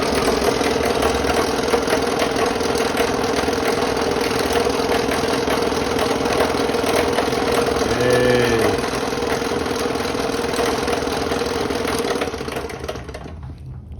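A restored Delta P-20 scroll saw runs with its air blower on, a steady close mechanical drone and whir that holds evenly, then winds down at the end.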